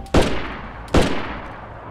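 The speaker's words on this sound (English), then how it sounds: "Somebody's shooting. Yeah, it's me." Two loud, close gunshots from DayZ ring out about three quarters of a second apart, each with a sharp crack and a fading tail, with no talking.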